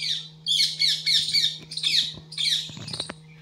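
Several birds call from a home courtyard in repeated bursts of harsh, squeaky squawks, fairly close and loud, with a steady low hum beneath and a few faint knocks near the end.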